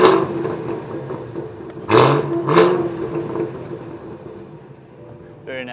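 A Cadillac Blackwing engine starts on its regular exhaust: a cranking catch, then two loud revving bursts that settle into a steady, rumbling idle, close by, with a faint clatter at the end.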